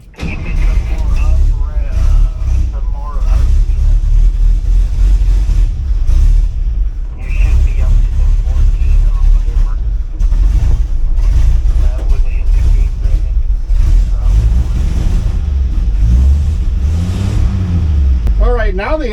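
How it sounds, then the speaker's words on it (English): A truck engine cranks and starts, then settles into a loud rumbling run with several revs rising and falling, close up, while someone talks over it now and then. "let me start the truck."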